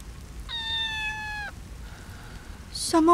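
A kitten meows in the rain, one drawn-out plaintive cry close by, followed by a fainter second call, over a soft steady patter of rain.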